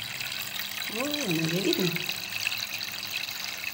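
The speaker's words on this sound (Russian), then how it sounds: "И посмотрите, вода бежит. Самым настоящим образом бежит вода." Water trickling steadily in a miniature working nativity scene display, a soft continuous running sound heard close by while someone speaks briefly over it.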